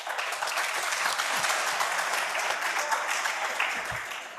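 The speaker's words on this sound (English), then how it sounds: "I want the boys to please give a round of applause for the ladies" Boys in a youth empowerment workshop audience applaud the ladies, a dense, steady wash of many hands clapping that fills the room for several seconds without any talking.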